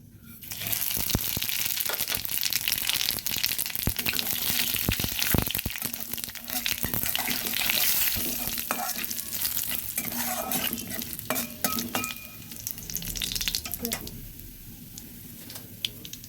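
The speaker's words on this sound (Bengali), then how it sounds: "তেলটা গরম হয়ে গেছে দিয়ে দিচ্ছি একটা শুকনো লঙ্কা আর দিয়ে দেব হাফ চামচ রাঁধুনি" A dried chilli, radhuni and whole cumin sizzle in hot mustard oil for a pumpkin-stem dish, a constant crackling hiss with scattered clinks and scrapes of stirring.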